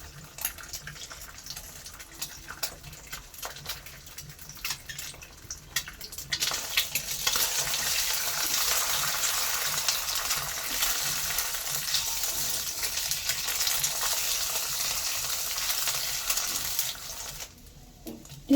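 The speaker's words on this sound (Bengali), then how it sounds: "ডিমটা ভাজা হয়ে গেছে, ডিমটা উঠাই নিই।" An egg frying in a pan, a low crackle that swells into a loud, steady sizzle with stirring scrapes, then cuts off near the end.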